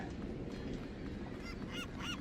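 In the video game Deus Ex, a pigeon gives three short, rising, honk-like calls late in the moment, faint over a low background hum.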